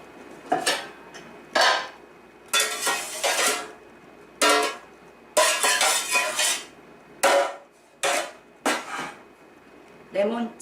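Metal kitchen utensils such as a spatula clatter against pots and pans in repeated bursts of clanking and rattling, close and fairly loud, with short pauses between clusters.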